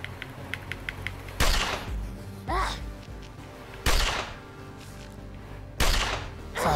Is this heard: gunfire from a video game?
yes